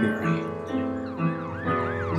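A wailing emergency siren rises and falls in quick repeated sweeps at night in a city, loud and continuous under a steady low rumble, with no voices.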